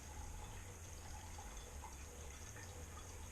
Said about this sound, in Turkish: Daha sonra şimdi bütün suyu ilave edeceğiz